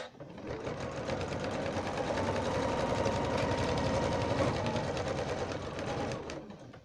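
A sewing machine stitches the binding on a pot holder in one continuous steady run, its rapid mechanical chatter close and even, starting and stopping cleanly.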